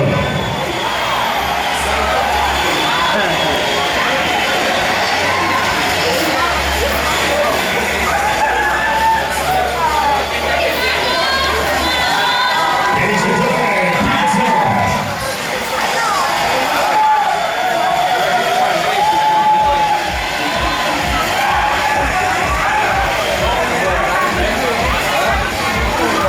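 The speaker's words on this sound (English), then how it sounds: "Today have a huge round of applause for his Charlie Pinto." Audience at a Miss San Mig Light beauty pageant in an Angeles City hotel, a lively crowd of cheering, shouting and chatter with a rhythmic clapping burst near the end, persisting under an announcer's amplified voice.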